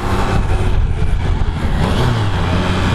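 A Triumph Tiger Sport 660 motorcycle engine held in third gear, revving steadily at around 4,000 to 5,000 rpm, a loud, continuous close-up drone with a slight rise in pitch.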